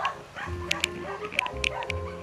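A dog yips and whimpers with several short, sharp barks in quick succession, close by, over low background noise.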